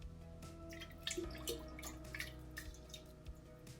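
Water drains from a glass jar of rinsed microgreen seeds in a kitchen, giving light dripping and trickling splashes over a steady low background hum, close and moderately quiet.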